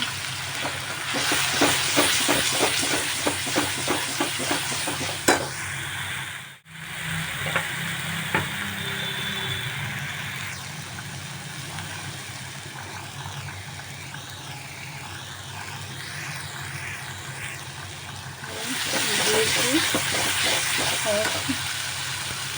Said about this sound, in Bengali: ধনের গুঁড়োটা একটু নাড়াচাড়া করার পর আমি জিরের গুঁড়ো ধনের গুঁড়ো আর একটু পরিমাণে হলুদ দিলাম